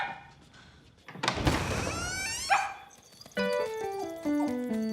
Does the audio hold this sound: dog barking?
yes